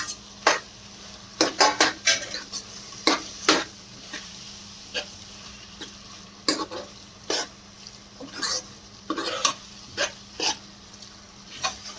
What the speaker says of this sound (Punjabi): ਬੈਂਗਣ ਪਾ ਦੇਣ ਜਿਹੜਾ ਤੋਂ ਕੱਟੇ ਸੇ ਬਰੀਕ ਬਰੀਕ ਇਹਨਾਂ ਨੂੰ ਚੰਗੀ ਤਰ੍ਹਾਂ ਮਿਕਸ ਕਰ ਦੇਣਾ